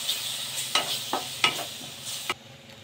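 Ginger-garlic paste masala stirred in a hot pan for matar paneer, a low sizzle with about five sharp spoon scrapes in quick succession, close up and without speech.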